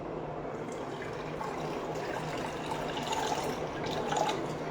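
Water being poured into a leftover fennel (saunf) drink at home, a steady close-up liquid splash and trickle running throughout without a break, with no talking.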